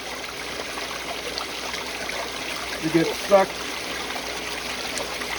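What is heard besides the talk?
water flowing through a gold sluice box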